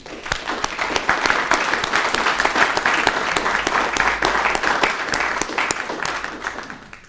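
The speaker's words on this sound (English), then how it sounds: "I think we ought to give him a round of applause." A room full of people at a city council meeting applauding steadily, a dense wash of clapping that swells and then gradually thins out.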